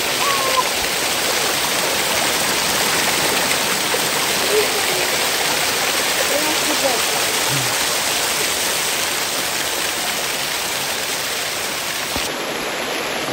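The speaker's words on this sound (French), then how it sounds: "je viens de découvrir une nouvelle cascade" Steady, loud rush of a waterfall cascade at Afia near Kedougou, Senegal, heard up close as continuous broadband roaring water with no pauses for the full duration.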